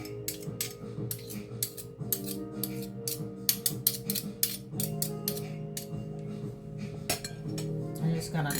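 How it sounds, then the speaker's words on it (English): A toss spoon works through mango coleslaw in a bowl, giving a busy run of clinks and light scrapes against the dish, close and irregular, with no voices. "I'm just going to toss that in there with the coleslaw"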